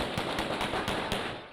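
Rapid bursts of gunfire during an attack on a hospital maternity ward, a series of sharp cracks at an uneven rhythm, fairly faint and distant-sounding, with no voices.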